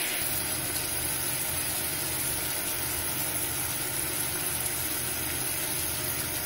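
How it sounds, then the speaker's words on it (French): Sugar syrup boils hard at 150 degrees over high heat on an induction hob, giving a steady, dense sizzling hiss that runs unbroken and close throughout, with no talking. "Alors vous laissez bouillonner comme ça fait en ce moment-là, toujours à 150 degrés."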